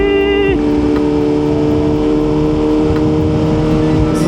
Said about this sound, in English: Downshifts is crispy.